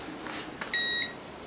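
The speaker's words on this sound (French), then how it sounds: "les bips que vous entendez, c'est mon thermomètre" A digital thermometer gives a short electronic beep, a single clear tone sounding briefly over quiet room noise during a paranormal investigation in a house.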